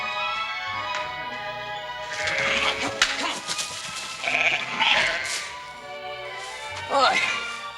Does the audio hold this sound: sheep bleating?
yes